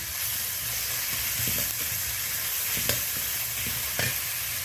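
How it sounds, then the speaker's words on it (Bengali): Masala with onion paste fries on a low flame for sole fish kalia, giving a steady close sizzle under occasional soft stirring scrapes and taps. "হালকা আঁচে আমি মশলাটা রেডি করে নিচ্ছি।"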